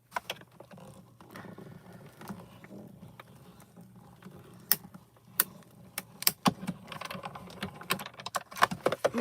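A die-cutting machine cutting hot-foiled butterfly shapes gives off clattering mechanical ticks and clicks over a low motor hum, sparse at first and then denser and sharper toward the end.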